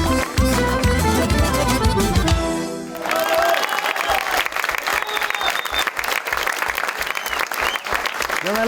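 A studio audience at a New Year comedy TV show applauds a musical guest: a few seconds of loud music cut off, then dense, steady clapping from a nearby crowd continues to the end.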